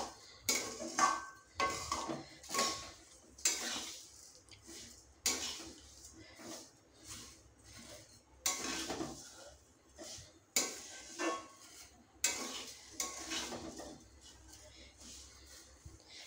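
Semai vermicelli being stirred with sugar in a pan, rhythmic bursts of scraping and clinking of a spoon against metal, fairly quiet with brief pauses between strokes.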